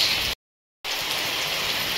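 Steady rain falls with a dense, even patter on surfaces. The sound breaks off into a short silent gap, then the same hiss of rain resumes.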